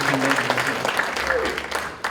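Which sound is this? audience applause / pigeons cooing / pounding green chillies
audience applause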